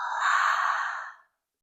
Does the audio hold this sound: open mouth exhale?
yes